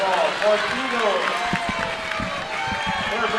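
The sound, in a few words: crowd cheering at basketball game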